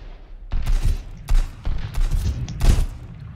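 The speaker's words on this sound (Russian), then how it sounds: "Вот откуда он меня стреляет?" Bursts of rapid video game gunfire in Sunkenland, four or five loud volleys in quick succession with short gaps, punchy and close.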